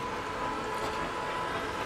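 A train horn sounds steadily in Resident Evil 2, a loud sustained honk holding a constant tone with rumbling rail noise beneath and no talking.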